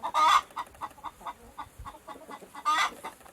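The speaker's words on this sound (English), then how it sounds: "H for hen." A hen clucking close by, two louder squawking calls framing a run of quick short clucks, with no voices.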